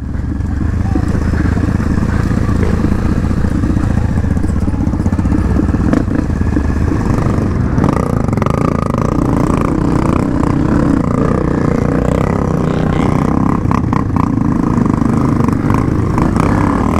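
Trail motorcycles accelerate on a dirt trail in Formosa do Sul, SC, with their engines droning loudly and steadily throughout while people talk over the noise.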